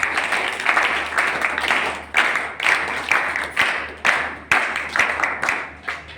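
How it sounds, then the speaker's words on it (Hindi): A crowd applauds with steady clapping that comes in repeated swells, loud and close, with no voices over it. "सारे भाई जोरदार तालियों से स्वागत"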